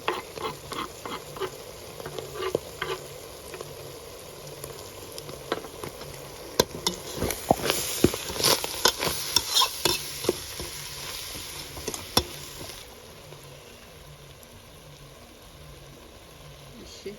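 Garlic frying in a pan for an Ethiopian dulet dish, a continuous sizzle with repeated scraping and tapping from stirring that grows busier midway, then settles into a softer fry; no talking.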